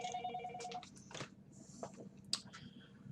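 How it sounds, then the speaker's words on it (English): A telephone ringing faintly indoors, with short electronic tones and chirps against quiet background clatter. "Random phone calls."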